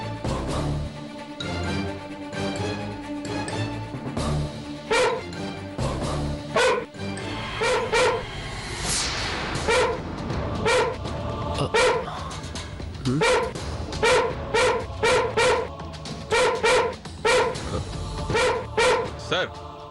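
A dog barks repeatedly in short rhythmic bursts under dramatic music, with people talking intermittently in a Tamil television drama scene.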